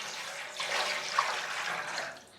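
Water pours into a pot to make brine, a steady splashing stream lasting about two seconds, close and moderately loud.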